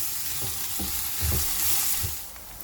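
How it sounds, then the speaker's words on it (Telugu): Onions and potatoes stir-frying in a pan for aloo fry, a steady hiss of frying with several scraping stirs at a slow, irregular rhythm, heard up close with no talk. "అప్పటి వరకు తిప్పుకుంటా ఫ్రై చేయాలి."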